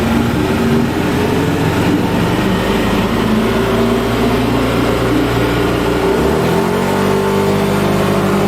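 A Yamaha Aerox scooter engine, fitted with an AFR gauge, revs loudly and continuously at full throttle, holding a strong droning pitch before it dips and climbs again near the end.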